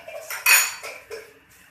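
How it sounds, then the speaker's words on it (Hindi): Yogurt masala is spooned into a pan of heated onions, giving several clinking metal scrapes and taps of a spoon against the pan, close and brief with no talking. "अब इसमें डालेंगे हम अपने दही का मसाला।"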